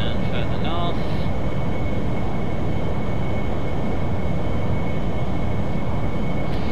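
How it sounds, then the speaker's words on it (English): Harrier jet making a smoke pass in the DCS World flight simulator, a loud, steady, broadband engine roar with a faint high whine above it that holds throughout without a break. "Yes, this is the Harrier smoke pass."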